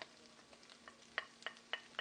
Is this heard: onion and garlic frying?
yes